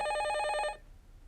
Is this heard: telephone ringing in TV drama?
yes